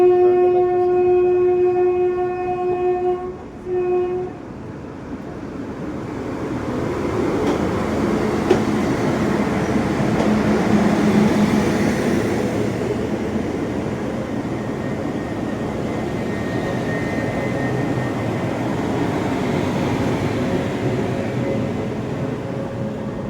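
A WAG-9 electric locomotive hauls a train past a station platform, a loud, sustained rumble and rolling clatter of wheels and wagons that builds and carries on steadily for over twenty seconds.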